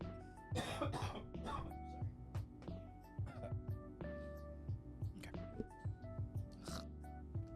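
Repeated harsh coughs burst out over a steady low background hum, close and uneven, coming in several clusters.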